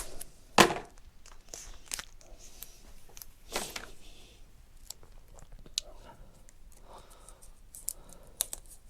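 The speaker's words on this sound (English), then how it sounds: "we'll just simply tape this to the end. Bit of tape." Tape is pulled and wrapped around a motorcycle charger cable, giving a sharp rip at the start followed by scattered close crinkles, taps and small sticky tearing noises, quiet and without talk.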